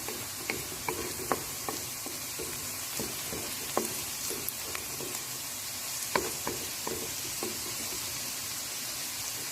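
Chopped onions frying in a pan with turmeric added, with a soft steady sizzle and scattered light spoon scrapes and clinks as they are stirred, fairly quiet and with no voice over it.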